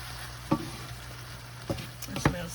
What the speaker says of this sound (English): Go ahead and give that a quick little mix.